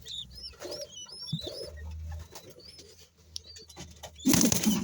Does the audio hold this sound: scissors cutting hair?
no